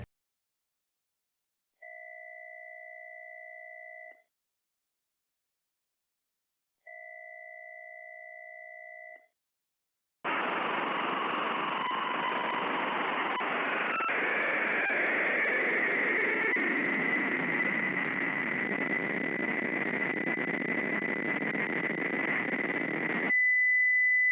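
A phone call placed to a secret number in the game Melon Sandbox gives two steady ringback tone bursts, then a long loud burst of hissing static with a shifting tone inside it, ending on a brief pure beep.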